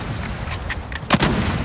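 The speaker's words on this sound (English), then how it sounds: "Oh, they have an airstrike." Explosions from an airstrike in the video game Warzone thud and crack in a rapid cluster over a constant rumbling background, with one heavier blast near the end, played without talk.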